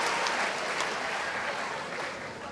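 A large crowd at a 4-H state opening assembly gives a dense, steady round of applause, continuous and even throughout with no pauses.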